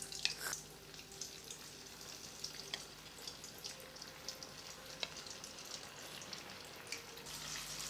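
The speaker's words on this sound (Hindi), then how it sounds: "फ़िश को फ्राई करने के लिए हमने एक बर्तन में ऑयल लिया है, ऑयल को हमने गर्म कर लिया है।" Boneless fish pieces fry in hot oil in a home kitchen, giving a steady soft sizzle with scattered crackles and pops throughout, fairly quiet and without talk.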